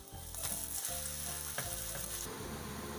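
A methi paratha fries in ghee on a pan, giving a continuous close sizzle with crackles, a soft steady hum and a few faint scraping touches throughout.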